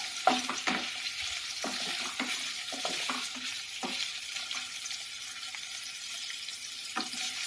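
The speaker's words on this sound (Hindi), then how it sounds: "तो अभी हम लोग उसको फ्राई करेंगे, थोड़ा शैलो फ्राई करना है हम लोग को।" Paneer cubes shallow frying in hot oil, a steady close sizzle with scattered pops and occasional stirring clicks throughout.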